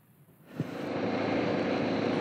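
Airplane flying near the Dempster lookout, its broad engine roar swelling in at about half a second after a brief thump and then holding steady and fairly loud to the end.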